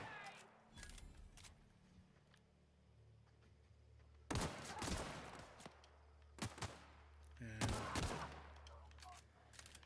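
Gunfire from The Outer Worlds rings out in scattered bursts, several loud volleys of shots with echoing tails spread across a stretch of quieter ambient game sound.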